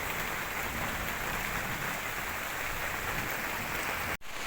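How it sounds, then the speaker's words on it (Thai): Heavy rain pours steadily through a forest with banana leaves and small trees during a storm, a dense, unbroken hiss close around the listener that cuts off abruptly near the end. "ฝนตกมากหนามากเลยนะครับเนี่ย"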